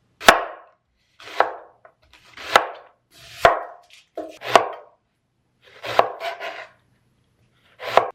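A knife cuts through a vegetable on a board in distinct, loud, close chops, about nine separate strikes with short pauses between them.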